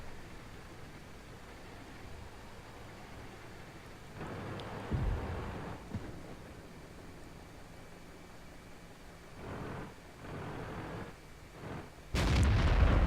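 Tank cannon fire in World of Tanks, an SU-100 in the fight, with a few muffled booms and crackling bursts spaced over a steady hiss, ending in a louder, sharper blast.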